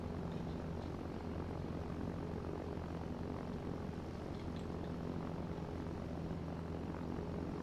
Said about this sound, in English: you might hear a plane because I live on a flight path